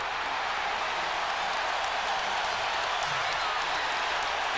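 A basketball arena crowd in a Bulls–Pacers game roars with a dense, sustained wash of cheering and applause that stays loud and steady throughout.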